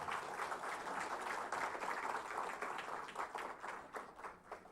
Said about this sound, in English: Can we make it louder with a huge round of applause coming from everyone